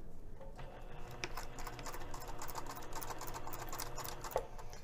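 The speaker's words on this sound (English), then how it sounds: "I'm gonna sew with the side panel against the bed of my sewing machine." A sewing machine stitches lining fabric with a 3/8-inch seam allowance, a faint, steady mechanical whir with light rapid ticking running the whole time.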